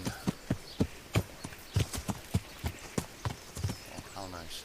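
Horse hooves clip-clopping in the video game Kingdom Come, a steady, fairly loud walking rhythm of sharp regular thuds across the whole stretch, with a brief voice near the end.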